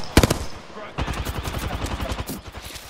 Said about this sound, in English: Stop shooting them!